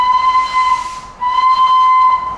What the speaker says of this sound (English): as Tornado continues to whistle behind me